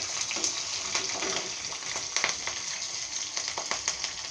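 Salt and green chillies frying in a pan for lemon rice give a steady close sizzle with light crackles and spatters, with no talk over it.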